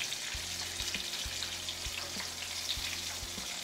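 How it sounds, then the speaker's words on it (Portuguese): Breaded shrimp fry in hot oil with a steady, close sizzling hiss, broken by occasional low knocks and clatters from the pan. "Pronto, então eu vou fritando o resto"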